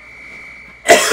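A single sharp cough bursts out abruptly at the very end, loud and close, after a near-silent moment holding a faint steady tone.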